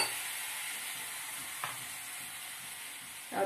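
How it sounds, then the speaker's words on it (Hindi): Leftover roti sizzles in a hot pan after a light sprinkle of water, giving a steady bright hiss with a couple of brief sharper crackles, close and with no voices. "हल्का से पानी के छींटे मारते हैं क्योंकि रोटी जो है तो टाइट हो जाएगी बहुत"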